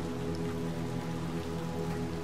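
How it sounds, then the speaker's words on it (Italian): Heavy rain in the Little Nightmares 2 video game, pouring down on the dark, run-down alleys of a city, a dense steady wash with a low hum beneath and no talk. "continua a imperversare una pioggia pazzesca"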